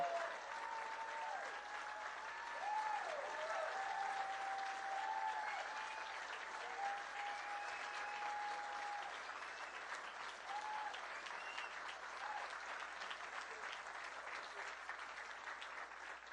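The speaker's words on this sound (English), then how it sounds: "General Bolduc, stand up and let everybody applaud you." A crowd at a presidential campaign rally in Salem, New Hampshire keeps up a long, even round of applause, many hands clapping at a steady level throughout, with faint voices carrying over the top.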